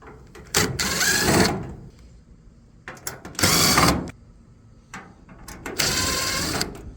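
Three bursts of a power screwdriver backing screws out of a Samsung dryer front panel, each whirring spin lasting about a second, separated by quiet pauses, close and loud.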